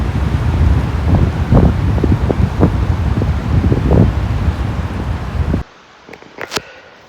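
Strong gusty wind at Beaver Lake in Pictured Rocks National Lakeshore buffets the microphone in loud roaring bursts, then cuts away abruptly to near quiet with a few faint knocks.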